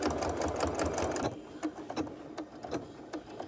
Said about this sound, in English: I'm keeping my quilting lines lined up with the seam lines of the quilt